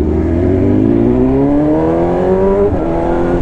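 An older man rides a motorcycle past on the road. Its engine sounds as a loud, close whine that climbs steadily in pitch before falling away near the end.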